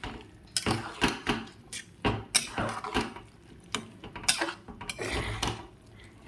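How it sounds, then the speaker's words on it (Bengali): A spoon works through ghugni masala made with sweet potato in a pan, producing irregular scraping and clanking strokes close by, loud and uneven in rhythm. "দিয়ে ভালো করে নাড়াচাড়া করে নেব।"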